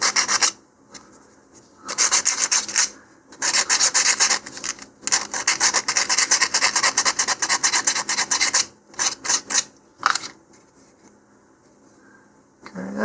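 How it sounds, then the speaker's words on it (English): A model rocket being sanded by hand along its high edges, heard as repeated close, raspy strokes in bursts, with short pauses between runs and near silence at the end. "just try and sand down the high edges as much as possible"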